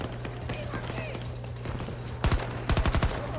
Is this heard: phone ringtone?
no